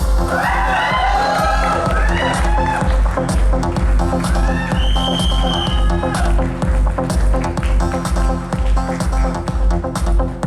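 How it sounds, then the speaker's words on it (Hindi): A large crowd at a stage event for children cheers and whoops loudly over steady music, with clapping mixed into a continuous roar that fills the whole stretch. "जोरदार ताली होनी चाहिए के लिए"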